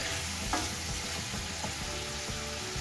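Celery leaves sauté in a pan, steady sizzling and frying with occasional stirring scrapes, continuous and close.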